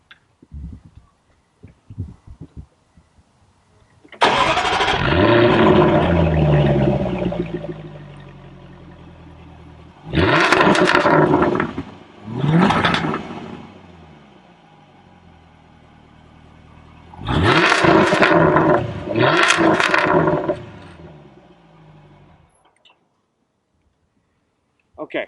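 A 2016 Jaguar F-Type R cranks and fires up with a loud exhaust blare, then settles and is revved in sharp bursts, two quick blips and later a pair of hard revs with active exhaust flaps, dropping to quiet idle between and silence at the end.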